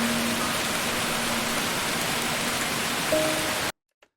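Ambient rain sound effect, a dense, even hiss of rainfall on a surface with a faint steady tone beneath, continuous and loud, then cutting off abruptly to near silence with one faint tick.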